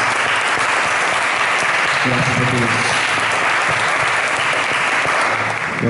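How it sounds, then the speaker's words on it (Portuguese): Sustained applause fills a church service, a dense steady clatter of many hands clapping throughout, with a voice speaking over it partway through. "Você pode aplaudir no nome de Jesus?"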